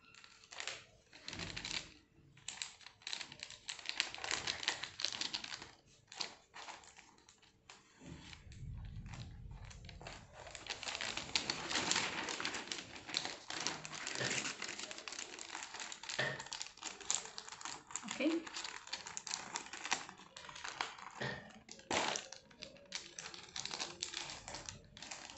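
Transparent plastic cover being folded over the top and bottom of a notebook, a continuous close crinkling and rustling with scattered tapping sounds, steady and fairly quiet.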